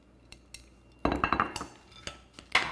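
A metal spoon stirs slivered almonds into a bowl of homemade ice cream, giving a few soft clinks and then a burst of scraping and clattering against the bowl, with sharper taps at the end.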